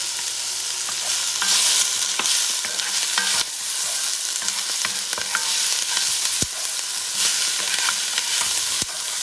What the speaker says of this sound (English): Mix things around for a few seconds. You can add some of the garlic.